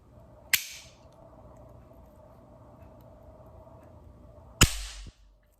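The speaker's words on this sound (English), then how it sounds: "Let's see if we can fire it one more time" An old dug-up cap gun fires Tootsietoy caps with two sharp, loud cracks about four seconds apart. A faint background hum fills the quiet between the shots.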